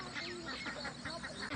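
Ducks quack in a village setting, a quick string of nasal calls from several birds close by over a short stretch.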